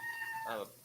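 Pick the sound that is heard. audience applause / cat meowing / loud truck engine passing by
cat meowing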